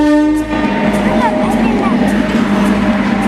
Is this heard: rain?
no